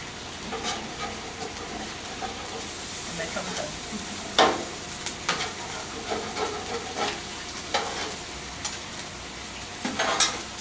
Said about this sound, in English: So we added butter, we added all the seafood. We're gonna add garlic.